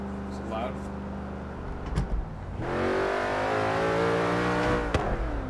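A Ford car engine in Forza Horizon 3, driven on a Fanatec Clubsport V2 wheel, revs up loudly and steadily through the second half after a quieter stretch, with a voice talking over it.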